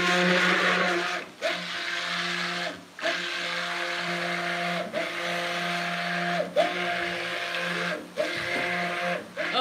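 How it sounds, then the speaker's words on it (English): A stick blender whirs steadily while mixing a batch of handmade soap. The hum is loud and close and keeps running, broken by several short dips as the blender is lifted or moved, with no speech. "That sound of that stick blender coming on."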